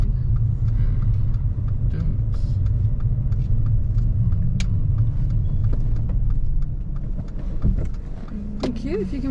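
A car pulls in and parks on the right during a driving lesson, with a steady low engine and road rumble throughout, easing off near the end, then a faint click and a short whirring sound.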